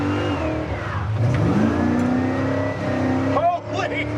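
A 1957 Chevy truck in trailer-queen condition revs up and accelerates hard, its mid-pitched engine roar swelling steadily and staying close and loud, with people talking over it throughout.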